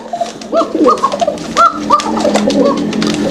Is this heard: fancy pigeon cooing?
yes